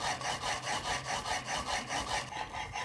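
Kitchen knife rubbed back and forth on the 1000 grit side of a combination sharpening stone, a steady rhythmic scraping of about eleven even strokes, close and clear with no talk.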